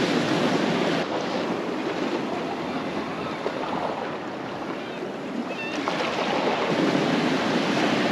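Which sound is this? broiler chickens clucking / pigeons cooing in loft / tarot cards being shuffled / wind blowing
wind blowing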